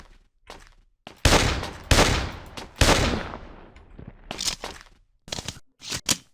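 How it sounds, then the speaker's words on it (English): Gunfire from a player's gun in the 2006 first-person shooter Darkest Island, several loud, sharp shots in irregular sequence with decaying tails, separated by quieter pauses, close and alone without talk. "I have a gun, let's use it."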